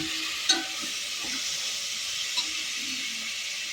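Food fries gently in a pan, a soft, even sizzle heard close but fairly quiet, with a couple of faint clinks and no voices.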